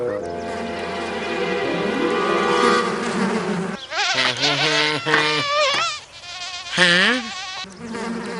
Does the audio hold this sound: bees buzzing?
yes